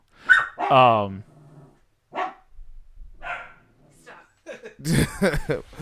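Dogs barking loudly and close by in several sharp bursts, with growly, whimpering tones between them, while someone talks over the commotion.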